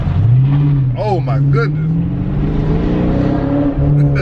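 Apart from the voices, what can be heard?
car accelerating hard with loud exhaust, throttle controller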